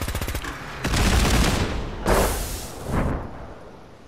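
A modded gun in Fallout 4 fires, a rapid burst of machine-gun shots followed by three heavy booming blasts that roll off and fade, loud and close, with no talking.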